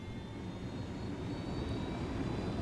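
A helicopter flying in Ghost Recon Wildlands gives a steady, faint engine drone and whine that holds evenly throughout, with no talk over it.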